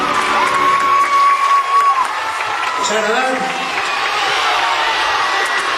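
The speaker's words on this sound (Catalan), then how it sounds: "Doncs moltes gràcies per els vostres aplaudiments" An audience of children at an Enric Valor event in Cocentaina cheers, shouts and claps in a loud, close burst that settles into steadier crowd noise, with a voice speaking over it.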